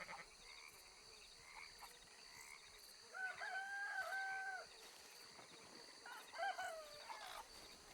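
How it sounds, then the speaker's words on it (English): A rooster crows in the WildRP game, two harmonic crowing calls at moderate distance set against a steady ambient background with frog-like croaking. "Every single time that rooster keeps spawning next to me and getting scared before I can move away."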